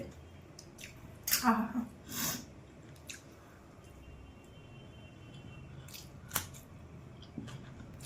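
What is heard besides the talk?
chewing mutton biryani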